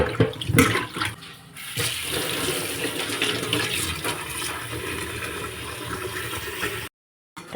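Tangra fish are washed with water and salt, making continuous close splashing and sloshing water sounds at moderate loudness, then a brief silent gap near the end.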